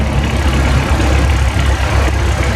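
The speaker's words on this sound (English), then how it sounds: "1965 Dodger 3020, owned and operated by Matthew Dean of Burli" A 1965 Dodger 3020 tractor idling during an old threshers' reunion parade in Mount Pleasant, Iowa, a loud, steady, low engine rumble throughout with no voices over it.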